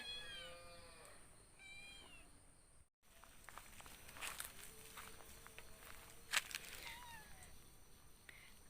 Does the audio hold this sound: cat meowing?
yes